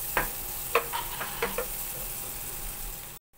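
Onions frying in butter make a soft, low sizzle, broken by several sharp utensil knocks and scrapes near the start, before the sound cuts off abruptly at the end.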